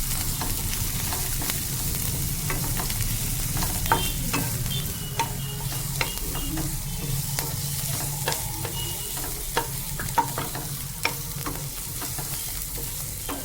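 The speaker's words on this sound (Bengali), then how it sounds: "এর মধ্যে আমি এবার একটু রসুন দিয়ে দেবো আর চিংড়ি মাছ দিয়ে একটু ভালো করে ভাজা করে নেব।" Shrimp frying with browned onion and garlic in a pan, a steady sizzle under repeated sharp spatula scrapes and stirs, close and continuous with no talking.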